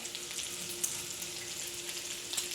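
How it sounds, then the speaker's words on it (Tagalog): Pork fat rendering slowly over a low fire for chocolate meat (dinuguan), giving a soft, even sizzle with faint scattered pops, quiet and continuous. "Pero unahin yung taba na iluto para slowly nalalabas yung kanyang mantika, taba."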